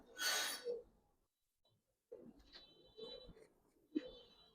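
Pigeons at a Giribaz and coloured pigeon farm coo in soft low bursts, starting after a sharp rustling flutter, with short gaps between the calls.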